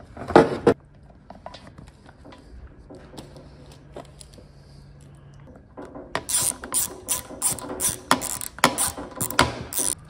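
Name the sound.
ratchet screwing a half-ring onto a panel saw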